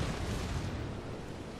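Secondary guns firing from a German warship in World of Warships, a brief, muffled roar of cannon fire and booming explosions blending into one continuous rumble, moderately quiet and with no talking.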